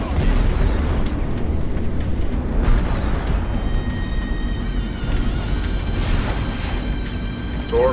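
Torpedo blasts tearing into a cruiser during a space battle in Strike Suit Zero, a dense, continuous low rumble of booms with thin tonal whines layered over the top, loud and sustained throughout.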